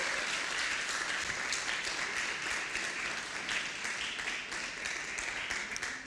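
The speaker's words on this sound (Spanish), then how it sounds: "Le damos un aplauso de bienvenida." A church congregation at a Sunday service claps steadily in welcome for first-time visitors, a dense, even wash of applause sustained throughout without a break.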